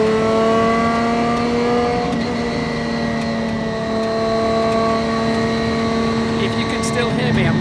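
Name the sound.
Lancia Stratos engine revving while driving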